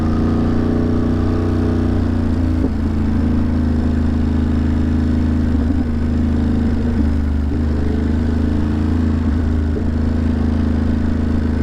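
A motorcycle engine hums steadily and loudly throughout a ride, with a constant low drone and small shifts in pitch, and no talking over it.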